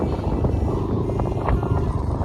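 Gusty wind buffets the microphone in a continuous low roar, loud and close, with no talking.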